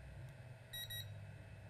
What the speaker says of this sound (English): I can set the controller to beep